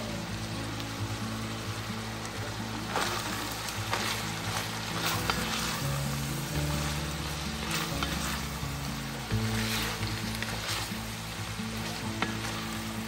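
Green beans (sitaw) sauté with ground pork in a hot pan, a dense continuous sizzle and crackle with occasional stirring scrapes, close and loud throughout.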